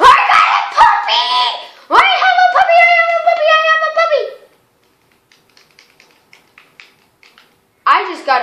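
Puppy yips and short barks from the Minecraft video game, a quick burst of high cries followed by a run of bright, rising and falling yelps, then faint clicks and another short yip at the end.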